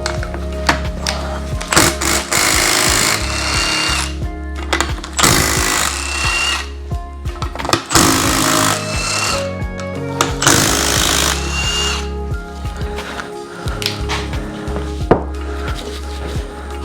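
On a Yamaha YFZ450R engine, an impact wrench loosens the head bolts in several loud, rapid hammering bursts of a few seconds each, separated by short pauses and quieter handling clatter.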